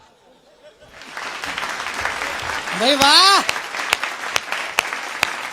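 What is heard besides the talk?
audience applause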